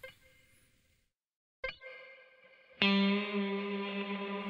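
A synthesized tone with shimmering reverb enters, drops out, then swells into a bright, sustained wash with a gently wavering tremolo.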